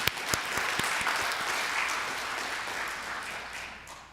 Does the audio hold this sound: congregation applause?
yes